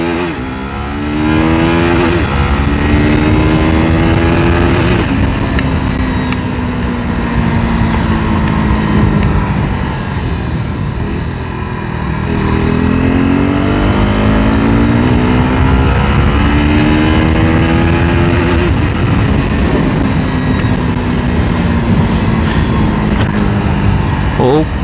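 A KTM RC 390 motorcycle accelerates hard through the gears, its engine note climbing loud and close, easing off around each shift, then rising again for almost the whole stretch.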